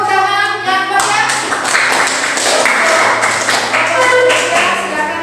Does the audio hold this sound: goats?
no